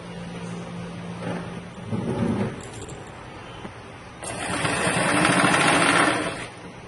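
A fabric face mask is stitched on a sewing machine, its motor whirring in bursts near the mic, a short run followed by a louder, longer stretch of stitching, with no speech.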